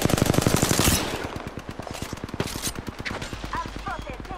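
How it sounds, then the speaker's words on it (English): Rapid automatic gunfire in Apex Legends, a loud, close, evenly spaced burst of shots that thins into a slower string of rounds, with brief voice callouts over it. "I'm spotted, taking fire."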